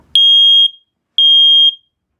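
An interconnected home smoke detector being tested sounds two loud, piercing high-pitched beeps of about half a second each, close and clean, separated by silence, with no talking.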